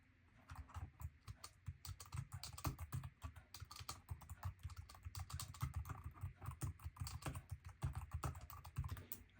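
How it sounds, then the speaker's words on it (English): Steady, fairly slow typing on a compact Arteck HB342 keyboard case for an iPad Mini, with close, irregular clicking keystrokes throughout and no talking. "I do have to type slower because it's a smaller keyboard."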